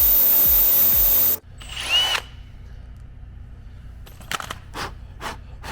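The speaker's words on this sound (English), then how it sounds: "I've drilled about 3/4 inches deep." Power drill whines loudly for about a second while boring into material for an Aprilia snowbike build, then cuts off, followed by quiet scraping and a few short clicks and knocks nearby.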